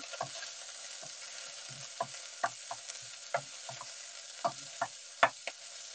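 Mushrooms sizzle steadily in a hot frying pan while being stirred, with a continuous close hiss broken by sharp scraping and clattering strokes of the utensil against the pan.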